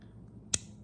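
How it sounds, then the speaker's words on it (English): A socket wrench ratchet gives a single sharp, close click against a quiet background, with nothing else heard. "let it ratchet, and that's the clicking sound you heard."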